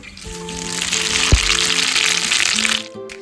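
Whole cumin seeds frying in hot oil in a pan already holding bay leaf, cardamom, cinnamon and cloves, a steady close sizzle with a brief sharp crackle partway through before it quiets.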